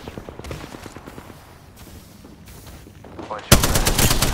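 Automatic gunfire in an Apex Legends-style battle royale game, rapid rattling bursts building from sparse shots into a loud, dense stream of fire near the end.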